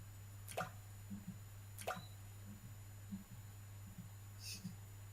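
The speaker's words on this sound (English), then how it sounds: "The sound of falling drops." Water drops fall one at a time in an irregular slow rhythm, each a short faint plop or tick, against a quiet steady hum.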